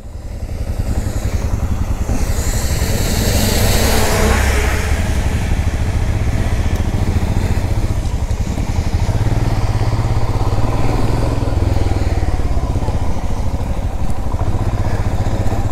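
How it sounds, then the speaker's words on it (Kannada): A motor vehicle approaches on a road at the Agumbe check post, near the Someshwara sanctuary, during a monsoon motorcycle ride, a loud continuous engine rumble with wind and road noise that swells as it nears. "ಇರೋ ಗಾಡಿ ಬರ್ತೈತೆ."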